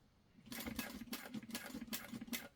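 A sewing machine stitches a backpack in quick bursts, its rapid mechanical whirring starting and stopping several times at close range with short pauses between runs, no talking.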